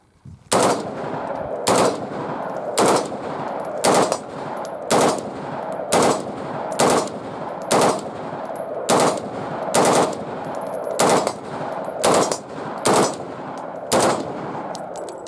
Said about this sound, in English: we're gonna take some firing down here at our target, approximately 50 yards away, and here we go